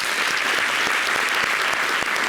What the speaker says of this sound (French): merci d'applaudir Grace.